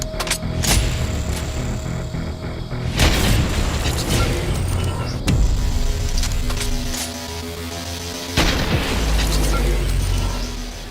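Heavy sniper rifle fire in a Fortnite match, heard as loud booming shots spaced several seconds apart, each with a long rumbling tail, over a constant dense game-sound bed.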